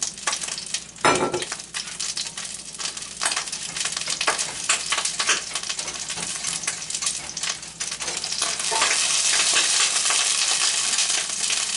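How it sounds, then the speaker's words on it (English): Eggs scramble and sizzle in hot oil in a pan for shrimp fried rice, a steady loud crackling fry with scraping stirs and a sharp clink near the start, continuing close and unbroken. "scramble me some eggs up over here"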